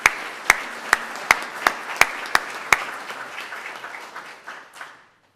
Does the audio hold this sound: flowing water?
no